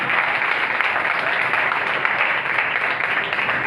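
Continuous applause from a crowd, a dense, even roar of clapping that stays loud and steady from start to finish.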